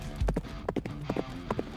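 Hooves clip-clop in a quick, steady rhythm from a horse being ridden and steered at speed, with close, repeated thuds and no voices over them.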